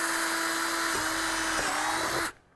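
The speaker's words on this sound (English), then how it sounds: "And just drill right through both shells." A power drill whines at a steady high pitch for about two seconds, grinding briefly as it bites through two plastic shells, then stops abruptly.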